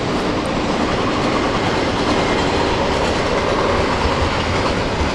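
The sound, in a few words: freight train passing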